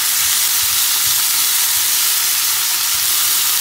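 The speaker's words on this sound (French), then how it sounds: "Voilà, mes légumes sont en train de cuire gentiment." Vegetables fry in a pan, with a steady, loud, dense sizzle and hiss that runs on without a break.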